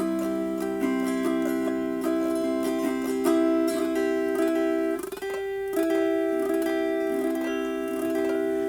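Repeated strummed chords on an autoharp, bright and ringing with a steady rhythm and some string scraping, played close up with no voices.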